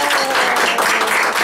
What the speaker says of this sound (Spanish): Un aplauso, chicos, a la placera